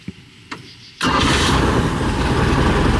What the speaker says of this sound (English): I'm going to go ahead and go to restart it.